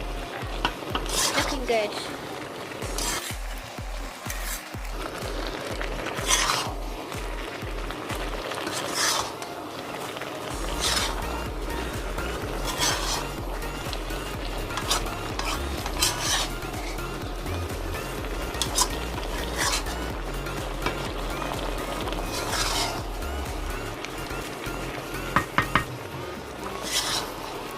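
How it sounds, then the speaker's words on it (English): Ginger chicken karahi with spices being stirred and fried in a pan, a continuous loud sizzle under scraping and clinking of a spoon against the metal, with a person talking briefly over the cooking. "So just make sure to mix all the spices well and fry it"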